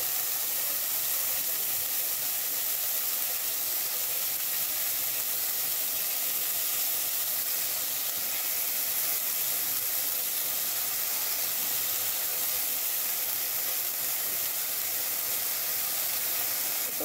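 Chopped onion and parsley frying in a pan as the base for an olive chicken tajine, a close, steady sizzling hiss that runs unbroken throughout with no voices.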